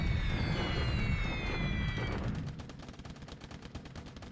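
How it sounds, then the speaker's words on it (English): Bombing attack on Dutch troops in the War in the Pacific strategy game, heard as a dense roar of rapid explosive gunfire and blasts that thins into crackling bursts, moderately loud with no speech. "I'm bombing this stack of Dutch troops here because I'm trying to keep them from moving."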